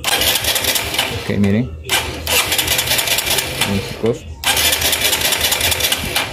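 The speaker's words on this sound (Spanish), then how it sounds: "Vamos a prender la moto" A motorcycle engine is fired up during a pulse coil and pickup test and keeps running loudly and steadily throughout, while someone speaks over it.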